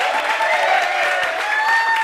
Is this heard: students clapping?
yes